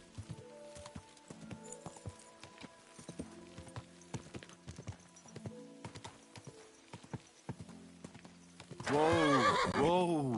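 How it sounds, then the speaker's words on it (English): Horse hooves clip-clop steadily at a walk, then a loud, wavering whinny rings out close by near the end. "A good horse."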